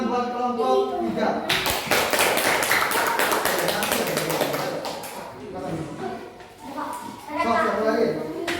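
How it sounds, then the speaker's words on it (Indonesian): A classroom of children claps for a group of pupils, a dense burst of applause lasting a few seconds, framed by a teacher's voice speaking before and after. "Tepuk tangan buat kelompok 3"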